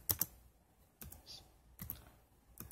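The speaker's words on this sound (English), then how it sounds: "Let me type in the walrus" Sparse keystrokes on a computer keyboard, a few separated clicks and short bursts spaced over a couple of seconds, close and fairly quiet.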